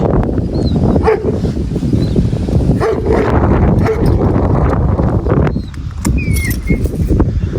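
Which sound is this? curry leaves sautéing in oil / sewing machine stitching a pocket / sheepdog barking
sheepdog barking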